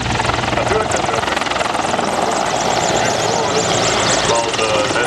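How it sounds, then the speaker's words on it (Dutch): A Mil Mi-24 Hind attack helicopter makes a rolling landing at an airshow, its loud, dense rotor thrum and turbine whine steady and close throughout, with a voice commentating over the noise. "een rollende landing van deze Hind helikopter"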